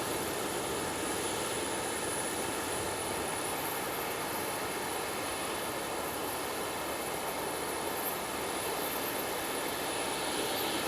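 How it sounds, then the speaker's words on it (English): A J-Air Embraer 175 jet at Nagasaki Airport gives a steady, even roar of engine noise that holds at one level throughout, with no voices over it. "this is a J Air Embraer. I think it's a 175."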